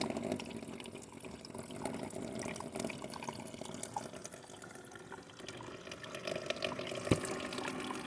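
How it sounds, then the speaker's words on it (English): Water draining from a camper sink through a funnel into a gray water jug, a continuous gurgling, trickling flow with scattered drips, fairly faint and steady throughout, with no talking. "Did you hear it going onto the other gray water jug in the back?"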